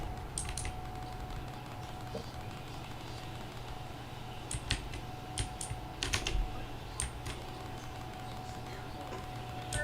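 Scattered keystrokes on a computer keyboard during a World of Warcraft session, sparse clicks clustered in brief bursts over a steady, low background hum of game sound.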